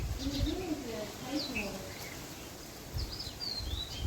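Sparrows chirp in short, high, scattered calls, clustering near the start and again toward the end, set against low murmured voices and faint background noise.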